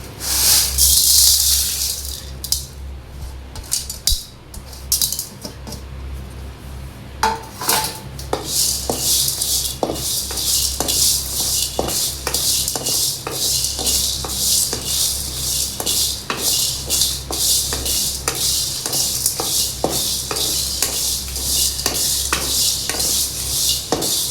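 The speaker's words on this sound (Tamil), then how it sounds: "அடுப்பில் ஒரு வானலில் வச்சு இப்போ இந்த தேவையான பொருளெல்லாம் வறுத்து எடுத்துக்கணும்" Chili powder and spices being dry-roasted in a pan on a stove, with repeated scraping, rattling and metallic clinks of a spoon against the pan in an uneven rhythm, close and steady, no talk.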